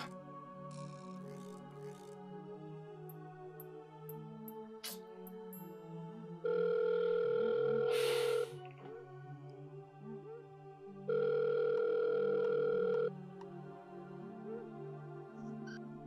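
An unanswered phone call rings out in two long electronic ringback bursts separated by a pause, while soft background music plays throughout and no one speaks.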